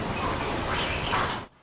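The Richland Mall building in Columbia is demolished, giving a loud, broadband rumbling crash of falling debris that stops abruptly.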